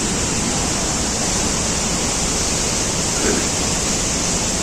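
Saman Dere waterfall in Düzce, where two streams meet, roars as a dense, steady rush of falling water, loud and unbroken throughout with no voices.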